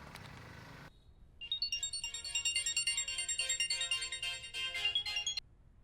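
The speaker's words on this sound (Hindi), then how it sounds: "वो फोन उठाना।" A phone ringtone rings in a dubbed action thriller scene, loud and close: a melodic tone repeats in quick rhythmic pulses for about four seconds, then stops abruptly. A brief murmur comes before it.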